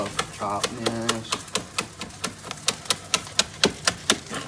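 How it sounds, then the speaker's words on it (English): A knife chopping green onion on a cutting board, a steady run of about fifteen sharp evenly spaced taps, close and clear, with a brief vocal sound near the start. "Just gonna cut the green onion"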